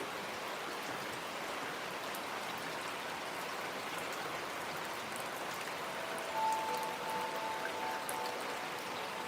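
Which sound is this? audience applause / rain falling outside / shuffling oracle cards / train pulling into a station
rain falling outside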